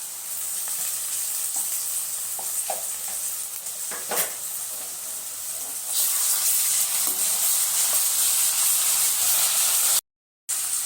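Onion paste sizzles steadily in a hot pan while curry is cooked, a continuous bright hiss with a few scraping stirs and clinks, ending in a brief cut to silence.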